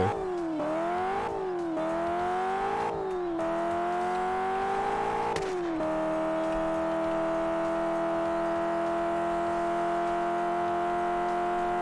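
A car engine in a drift racing video game, a loud steady whine whose pitch rises and dips with several revving shifts early on, then settles into a sustained even drone.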